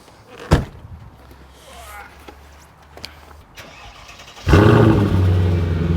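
A Mercedes SL500 engine cranks and fires into a loud, rough idle near the end, after a sharp knock and some quiet shuffling; people talk before it starts.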